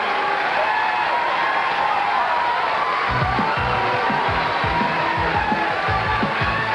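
A capacity crowd at Gable House bowling center in Torrance applauds and cheers steadily at the 1986 Greater Los Angeles Open, a broad, even wash of clapping with scattered whoops throughout, moderately loud and sustained.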